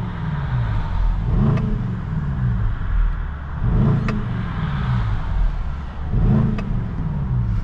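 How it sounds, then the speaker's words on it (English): The V8 of an Aston Martin DBX 707 in Sport Plus mode with the exhaust open revs three times. Each rev sweeps up into the limiter, set around 3000 RPM, then falls back, loud and close, with a pop at each peak. "I wish it went all the way up to at least 4000 RPM, because then we have quite a nice V8 exhaust noise"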